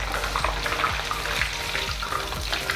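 Murukku snacks frying in hot oil at home, a steady close sizzling bubble with faint stirring scrapes, no talking.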